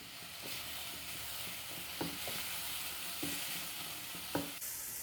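Boiled, shredded boneless chicken is stirred into a pan of frying stuffing, giving a steady close sizzle with a few soft scraping stirs and no voices.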